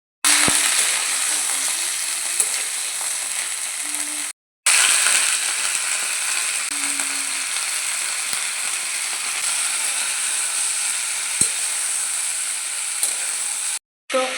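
Potatoes and cauliflower frying in a pan, a steady close sizzle with occasional stirring clicks, cut by two brief silent gaps.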